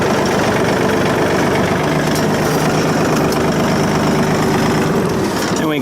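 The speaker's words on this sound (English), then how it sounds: "I leave the tractor running" A tractor engine idles close and loud, holding a continuous low rumble with a slightly rough, knocking pulse throughout, unchanged for the whole stretch.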